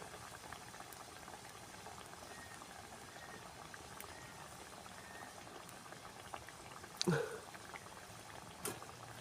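Sesame vada, flattened by hand, frying in hot oil over a village cooking fire, a faint, steady bubbling hiss with a brief louder splash and crackle near the end, no talking.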